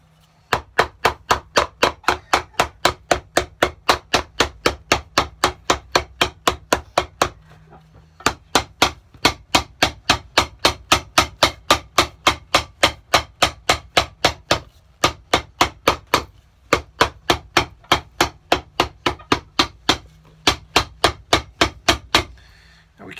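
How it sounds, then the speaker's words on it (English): Rapid, evenly spaced hammer blows strike the sole of a wide Florsheim shoe, sharp close taps in long runs broken by a few brief pauses. "We get to hammer that down too."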